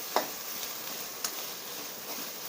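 Roasted moth beans (matki) are sautéed in a pan for misal, giving a soft, steady sizzle broken by a few quick spatula scrapes and clicks.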